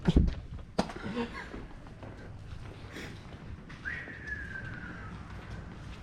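A single clear whistle slides downward in pitch for about a second, moderately loud over a murmur of background noise.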